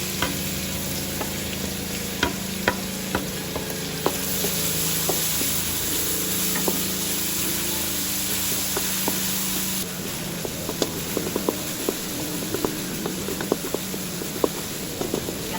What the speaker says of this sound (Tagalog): Lalagay ko na po ang bawang Susunod ko na din po ang sibuyas.